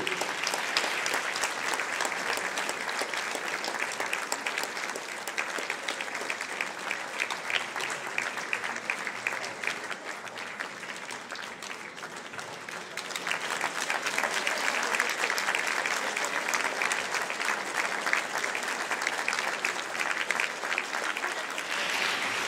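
Sustained audience applause following a mazurka performance at a concert, dense and steady for over twenty seconds with a brief dip midway before swelling again.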